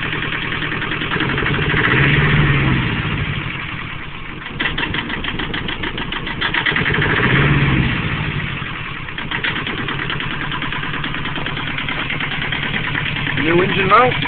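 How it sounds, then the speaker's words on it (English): A newly installed engine on new mounts runs at a steady idle, its low, even hum continuous throughout with a slight knock, while someone talks over it. "there's your engine all in and running."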